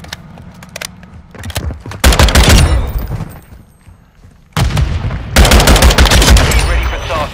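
Gunfire in Call of Duty: Modern Warfare II, with bursts of rapid automatic shots in two loud stretches separated by a quieter lull of scattered distant shots.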